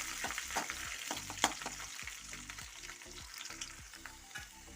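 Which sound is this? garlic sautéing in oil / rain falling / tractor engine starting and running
garlic sautéing in oil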